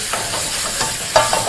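Potatoes and egg mixture fry together in a pan for chips masala, a loud, steady sizzle with soft stirring and scraping scuffs on top.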